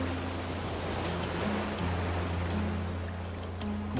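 Steady ocean surf from the survival game Raft, a continuous broad wash of waves with a low engine-like drone underneath, even and fairly loud throughout with no talking.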